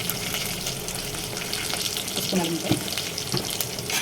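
Ginger-chili paste stirred into spices and turmeric frying in a pan for kattu charu: a continuous sizzle with scraping stirs, and a brief voice midway.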